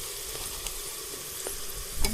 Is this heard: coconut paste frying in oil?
yes